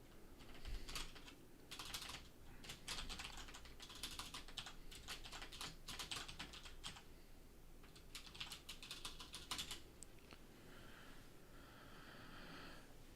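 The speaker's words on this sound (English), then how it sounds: "I'll type out the other names too" Someone types on a computer keyboard nearby, quick irregular bursts of soft key clicks with short pauses between runs, faint and intimate, with light breathing audible underneath.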